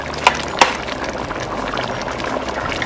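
Caribbean red bean stew bubbling in a pot on high heat, a steady soft simmering gurgle with two sharp spoon-like clicks near the start, close and continuous, no talking.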